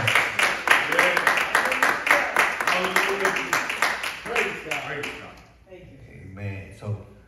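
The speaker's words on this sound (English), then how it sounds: "Give the Lord a hand clap for him" A church congregation claps together in a brisk, steady rhythm for several seconds, with voices rising over the claps before they taper into quieter talk.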